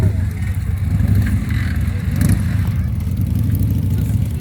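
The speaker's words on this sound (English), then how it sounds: "I got her started with one kick" A Harley-Davidson Panhead motorcycle engine runs steadily after a kick start, a loud, close, lumpy low rumble with a slight rise in revs midway, continuing without talk.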